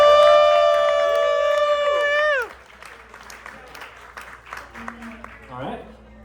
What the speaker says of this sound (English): Big round of applause for Chad Atala